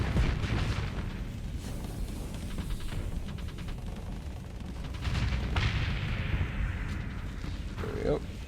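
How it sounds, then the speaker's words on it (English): Rapid weapon fire from phase lances set to automatic in a naval combat video game, a dense rumbling barrage of repeated shots and blasts running throughout. "Our phase lances should be on auto fire."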